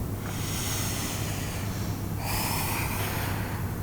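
Slow, deep breathing during a yoga class, a close, airy rush of breath swelling and easing over a few seconds with no voices.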